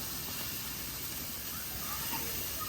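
Steaks sizzle in a hot pan or on a grill, a steady broadband hiss that stays close and even for the whole stretch with no talking over it.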